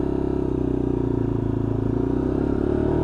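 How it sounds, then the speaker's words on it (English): A Lexmoto LXR motorcycle with a new engine pulls into traffic, its steady, close engine drone rumbling and clattering continuously with a slight rise in pitch as it gains power. "we'll pull it out into traffic and then wind on those beans and get some power on the bike"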